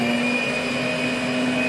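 An electric mixer beats a cheesecake mixture for a biscuit semifreddo, giving a steady, continuous motorized whir with no breaks, heard on its own without speech.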